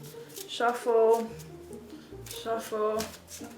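Playing cards riffled in a short shuffle during a tabletop game session, soft papery fluttering under nearby talking voices.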